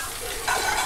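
Garlic tossed into hot oil in a wok or pan for chili-dried chicken, a steady close sizzle that swells brighter halfway through as it is stirred.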